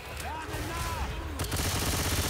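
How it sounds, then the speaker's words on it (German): Gunfire in the video game Left 4 Dead 2, rapid, dense automatic shots that grow into a continuous loud rattle in the second half, with voices and game sounds mixed in beneath. "Alles ballern, was drauf geht."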